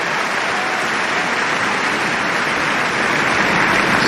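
Dense, steady applause from a large crowd fills the stands at the Wimbledon tennis final, a continuous hiss of clapping with no breaks.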